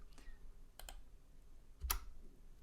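A single computer keyboard key, the delete key, is pressed, giving a few faint, sharp plastic clicks with one clearer tap near the end, close and otherwise quiet.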